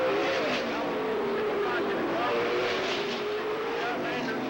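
Race cars roar around a track late in a 20-lap race, a continuous, loud blend of engines passing near and far, with an announcer's voice running over the top.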